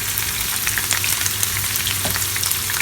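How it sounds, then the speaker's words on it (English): Paneer cubes frying in a pan with red chili powder, a steady close sizzle with faint stirring scrapes throughout, no talking. "Again going to cook this paneer for 1 minute."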